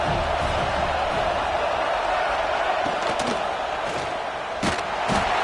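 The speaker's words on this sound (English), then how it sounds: "This crowd bringing the energy and noise early." A loud, steady roar from a large football stadium crowd at an Auburn game fills the air, with scattered thuds and shouts rising above the constant din.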